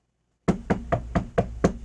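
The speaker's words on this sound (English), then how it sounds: "You get a knock on the door." Six sharp knocks on a door, evenly spaced and loud and close, starting after a brief silence.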